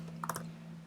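A few quick keystrokes on a computer keyboard, faint and close, over a steady low electrical hum.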